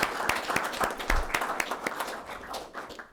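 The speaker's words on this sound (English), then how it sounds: "I would just ask everyone to join me in a round of applause for our LFR team medical care community." A small gathering applauds a medical care team during a cardiac success event in Lincoln. The claps are close and individually distinct, forming a moderate, uneven round that thins toward the end.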